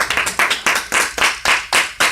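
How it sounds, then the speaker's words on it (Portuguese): A church congregation claps in praise of the Lord, a loud, even rhythm of about nine strong unison claps, close and rhythmic rather than scattered. "Dá um aplauso ao Senhor."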